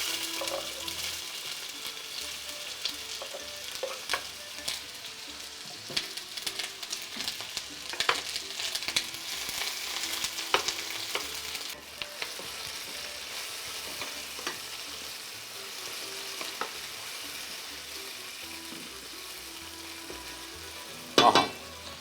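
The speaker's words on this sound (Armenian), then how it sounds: "Տապակում ենք առանձին սոխը։" Chopped onion fries in hot oil in a pan for lamb jerepuk, a steady close sizzle interrupted by frequent scraping stirs, with a sharp clatter near the end and no talking.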